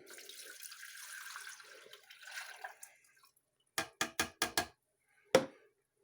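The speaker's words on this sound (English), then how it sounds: "We're going to pour the water in." Water pours into a Cocomotion hot cocoa maker in a soft, close stream for under three seconds. A quick run of four sharp clicks or knocks follows, then one louder knock, as if a cap is fitted.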